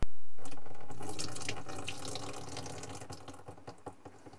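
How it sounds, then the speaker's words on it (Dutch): Water from a camper tank gushing and splashing steadily out of a drain up close, loud at first and slowly tapering off. "En moet je eens kijken hoeveel water daar dan nog uitkomt."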